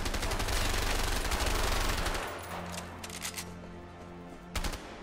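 A sustained burst of automatic gunfire in the action game A Way Out, loud and continuous for about two seconds, then a few scattered shots over quieter background tones and a final sharp report.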